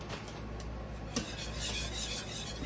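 A whisk scrapes and rubs continuously through a sauce as shredded cheddar, Monterey Jack and cheddar jack cheese are stirred in, a close, steady scratching with a small metallic tap midway.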